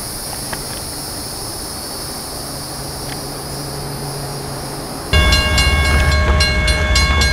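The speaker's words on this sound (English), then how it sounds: "we've also got CSX Q410 about to head out of the yard very shortly" A CSX Q410 freight train led by a GE Evolution-series locomotive in boxcar-logo paint departs a yard in Florence, South Carolina, rising from a steady distant rumble amid insect chirping into a sudden loud, close roar with bright metallic tones.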